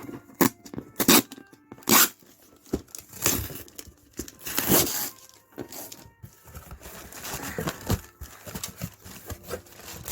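A package of mini cushions being unboxed from a slightly dented box, with loud bursts of tearing and crinkling packaging alternating with quieter rustles and handling bumps, close up and without speech.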